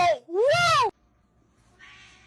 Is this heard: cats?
yes